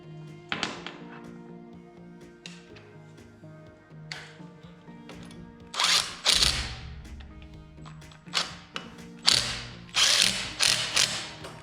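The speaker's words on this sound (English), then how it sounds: "got the bolts in, got them torqued and tight" Ratchet wrench tightening bolts on an International 856 tractor during a clutch job, with bursts of rapid clicking pawl ratcheting separated by pauses, close and fairly loud with metallic taps between strokes.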